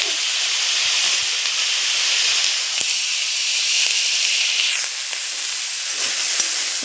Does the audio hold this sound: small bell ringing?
no